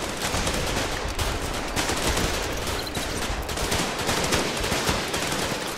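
Sustained .50 cal machine gun fire in the war game Running With Rifles, a dense, loud, unbroken stream of rapid shots with no gap for the whole stretch.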